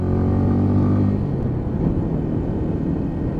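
A Lexmoto Ranger cruiser motorcycle is ridden along the road, its engine droning loud and steady with a rich low hum that eases slightly partway through.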